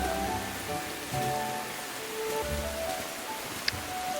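Rain falls in the cozy video game Tales of the Shire near a pier, a steady soft patter over faint tonal background music.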